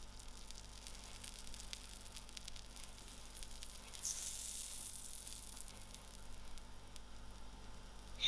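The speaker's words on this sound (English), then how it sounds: "So on the turn side, I'm going to just put in my butter and oil mixture." A paratha fries in a butter and oil mixture, giving a soft, even sizzle that hisses faintly and continuously, brightening a little partway through.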